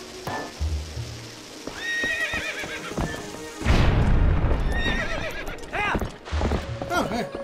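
A horse in Zelda: Twilight Princess neighs several times, loud, shrill whinnies rising and falling, mixed with hoof clip-clops and a heavy booming rumble, all close and prominent.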